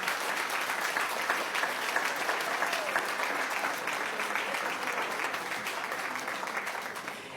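An audience at a school board meeting applauds steadily, a dense patter of many hands that tapers slightly toward the end.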